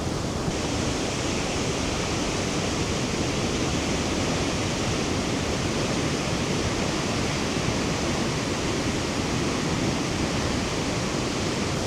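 A North Shore waterfall swollen with spring runoff gives a loud, unbroken roar of rushing water. The sound stays steady and close for the whole stretch, with no voices over it.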